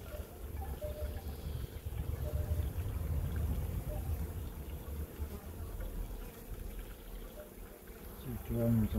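Honey bees buzz around an open hive during a spring inspection, a dense, steady hum with low rumbling handling noise underneath and a brief louder stir at the end.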